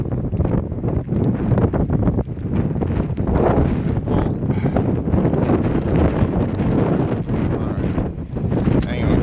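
Strong outdoor wind buffets the microphone in a continuous loud roar, with rumbling gusts that run for the full length without any break.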